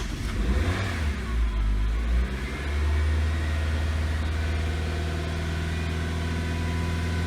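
A Nissan Sentra engine with a stalling-at-idle fault rumbles loud and close, surging unevenly at first, then held at a steady revved drone under the accelerator.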